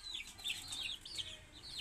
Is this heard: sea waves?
no